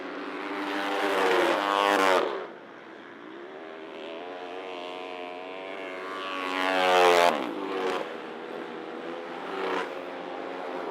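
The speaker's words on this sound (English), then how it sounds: "the hard-charging Kawasaki racing all alone out there" Kawasaki racing quads on a dirt track scream past in loud high-revving bursts, engines rising and fading as machines pass, with one sharp pass-by after the first couple of seconds and another near the middle.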